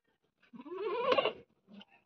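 A single goat bleats once at close range in a long wavering cry, followed by a short softer bleat, on a farm where goats weighing about 45 kilograms are raised.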